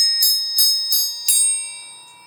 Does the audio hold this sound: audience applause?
no